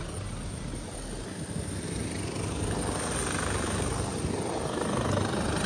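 A helicopter flies overhead during a flood rescue, its steady, dense rotor and engine roar holding loud and constant throughout with no voices.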